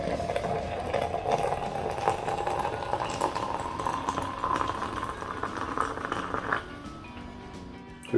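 Coffee simmers and bubbles in a pot for a milk and brandy Cola de Mono punch, a continuous rumbling boil with a faint humming tone that eases off toward the end.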